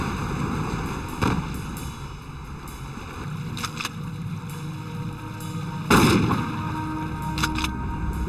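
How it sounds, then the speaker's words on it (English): Shotgun slugs fired into a floating cooler on open water, two sharp outdoor reports several seconds apart with weaker follow-up cracks, over a steady background hum and wind. "sink the cooler by firing slugs into it"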